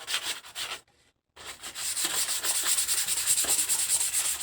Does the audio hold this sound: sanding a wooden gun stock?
yes